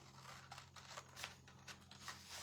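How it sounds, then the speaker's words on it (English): Scissors snipping through a sheet of cardstock to cut a tag for a fabric crow craft: a series of faint, dry crisp snips at an uneven pace, close by and quiet, with no talking. "we're going to take a piece of cardstock and we're going to cut it."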